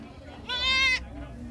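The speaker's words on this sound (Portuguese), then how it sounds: "Tá bonita a cabra e tá bonita a cria também." A single loud, wavering bleat from a goat with a newborn kid at a livestock fair, about half a second long, close by against quiet background.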